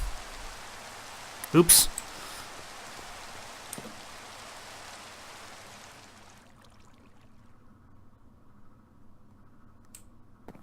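Rain falls in the Minecraft game Sky Factory as a faint, even hiss of white noise. It dies away after about six seconds into near silence, with a brief sharp burst and a click early on and a short spoken word.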